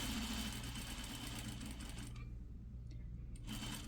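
A sewing machine stitches a slash pocket in a steady, fast mechanical whir that drops away near the end, close and alone.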